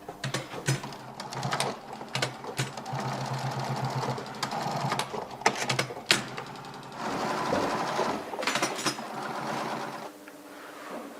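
Sewing machine stitching the upper of a classic running shoe, with bursts of rapid mechanical stitching separated by short pauses and handling noises, close up and without talk.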